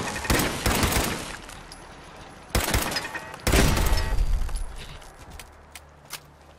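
An automated turret in Fallout 4 fires loud, close bursts of gunfire, several clustered volleys separated by short pauses and followed by fainter thuds.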